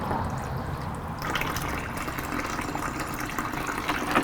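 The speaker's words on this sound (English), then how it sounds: "And force the water to go the other way through the system by closing this side of the tube off." Water flushes through a Yamaha R6 radiator tube during a coolant flush, a steady close gurgling rush that gets fuller partway through and runs on without a break.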